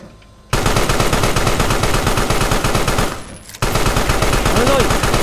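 Automatic gunfire in the video game Carrion, a loud, rapid continuous stream of shots that cuts in abruptly, breaks off briefly, then resumes just as hard.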